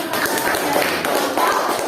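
Classroom of students clapping together in a dense, steady patter of applause that lasts throughout, fairly loud and close, with a faint voice or two mixed in underneath.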